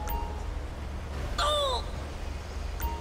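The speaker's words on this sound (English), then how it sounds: "Let's ring a bell" In the GTA 5 video game, a doorbell gives a short two-tone chime in the middle, fairly clear over a steady low game hum.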